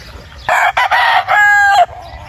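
A straight comb golden boy rooster on a farm crows once, loud and close, a bright rising call broken into a few bursts and ending on a drawn-out note, with no talking.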